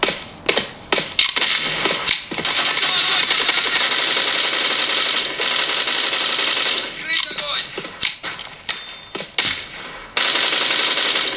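Constant, loud gunfire from the mobile shooter Bullet Force running at max graphics on a Huawei Mate 40 Pro, with dense bursts of shots and explosions filling the clip, broken by brief gaps.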